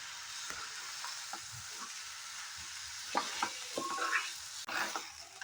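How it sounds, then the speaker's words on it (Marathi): Soaked rice being stirred in a hot pan for a green chickpea pulao, with a soft continuous sizzle and scattered light scrapes of a spoon against the pan; no talking. "भिजवलेला आपला तांदूळ, मिक्स करून घेते छान असं."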